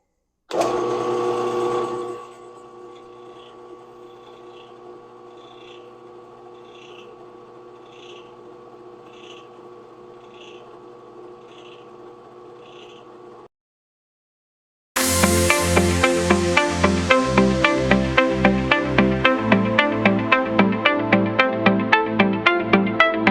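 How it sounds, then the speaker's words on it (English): A drill press fitted with a 17/64 bit runs at 950 RPM through an oiled metal workpiece held in a vise. A steady motor whine with a repeating rhythmic tick gives way to a louder, rapidly pulsing grinding cut. "I've got the piece in the drill press vise. I've got the 1764 drill bit in there."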